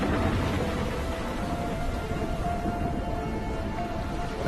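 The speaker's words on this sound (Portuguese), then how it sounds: "a chuva transforma-se em granizo" Steady rain pours down in a cold polar region as it turns to hail, a dense, continuous hiss of drops and pellets striking the ground, loud and unbroken throughout, with no voices.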